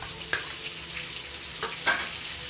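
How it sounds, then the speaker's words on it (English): Ginger and garlic paste fries in a pan while being stirred for butter chicken, a faint, steady sizzle with a few soft scraping stirs. "So next step, we will add our ginger and garlic paste."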